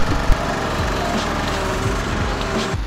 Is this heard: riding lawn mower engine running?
yes